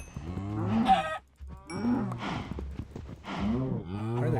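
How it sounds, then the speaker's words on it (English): Cows in a video game moo in three long, loud, drawn-out calls close by, separated by short pauses, with no talking over them. "Why are there cows like in the corner?"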